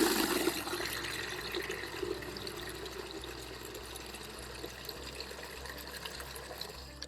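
Water gushes from an old hand-pump spigot into a bucket at a 19th-century laundry site, a steady faint rushing splash that carries on without a break.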